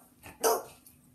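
A single short dog bark rings out close by, one sharp burst followed by quiet.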